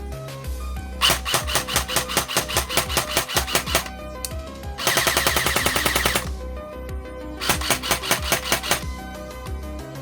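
Airsoft gun fitted with a Gate Titan unit fires three bursts of rapid, snappy shots, up close and loud, with a short gap of mechanical hum between volleys and no talking.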